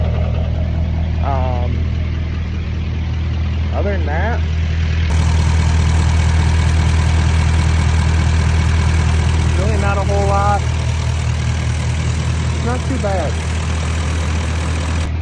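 An L5P diesel truck fitted with an S467 turbo idles with a steady low rumble and a faint clatter, close and continuous, while someone talks over it.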